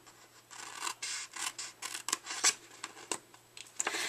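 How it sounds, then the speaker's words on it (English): Scissors snip and rasp through a small scrap of paper trimmed off a Father's Day gift bag, with irregular close cuts repeating for about four seconds and no talking. "We're going to trim that small piece off."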